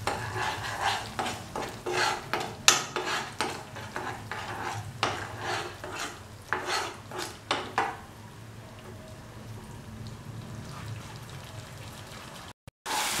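Quarter spoon of turmeric powder being stirred into a soya chunk kofta stew mixture, with repeated scraping strokes against the pan over about eight seconds, then fading to quiet kitchen background.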